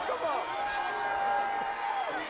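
A home crowd at a boxing match roars and cheers after the fight, a broad, sustained wash of noise with a voice talking over it.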